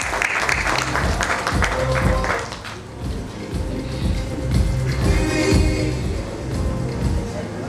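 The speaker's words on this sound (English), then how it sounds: "Round of applause." Applause from the audience at a media summit as the Head of Global Media at Godrej Consumer Products is welcomed on stage; steady clapping fills the hall, then settles into murmuring and shuffling.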